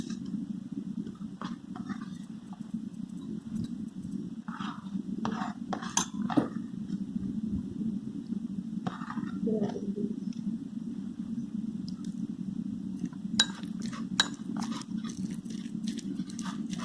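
Raw onion stirred into a fish chutney, with soft scattered clinks and scrapes of a spoon against a bowl over steady low background hum, intermittent and fairly close.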